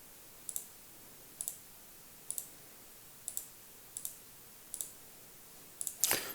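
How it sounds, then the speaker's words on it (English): Mouse button clicks on a jQuery accordion menu, seven crisp clicks at a steady rhythm roughly one second apart, close and fairly quiet, ending in a brief louder burst of rapid clicks. "So if I click it"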